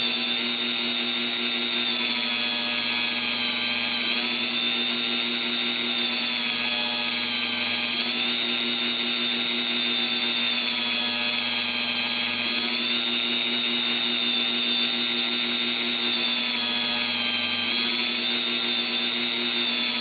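A steady, high-pitched electric drill whines continuously at close range while polishing an axle in a vise, its tone wavering slightly as it grinds against metal, with no talking.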